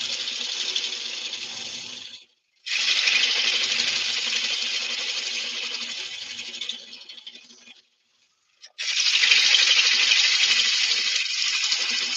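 Woodturning gouge with an English grind cutting horse chestnut on a lathe, a steady hissing, scraping shear in three long passes broken by two short pauses, close and fairly loud.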